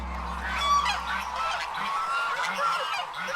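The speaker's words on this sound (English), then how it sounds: "This is China's largest goose, the lion-head goose." A lion-head goose, China's largest goose breed, honks close and loud in repeated nasal calls over steady background noise.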